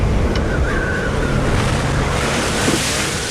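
Stormy sea with strong wind and surging waves beating against a sailing boat in open water, a steady loud roar of surf and gusts with wind buffeting the microphone throughout.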